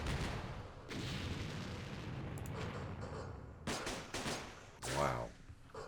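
Rocket artillery fire in Campaign Series Vietnam rumbles as a sustained barrage of booms and blasts, with sharper impacts near the end, loud and close.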